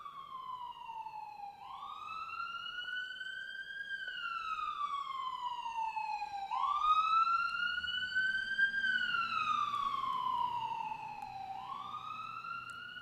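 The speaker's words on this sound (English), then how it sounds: "That was the longest siren ever." A wailing siren rises and falls in long, slow sweeps, moderately distant and continuous throughout, with no voices over it.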